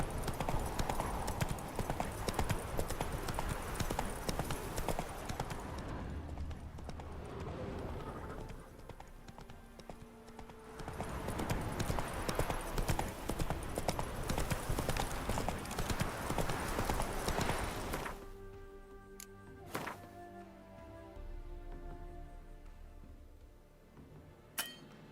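Roach the horse trots along in The Witcher 3, steady hoofbeat clip-clop running loud and continuous, easing off midway, then picking back up before fading under a few clinks and quieter ambience near the end.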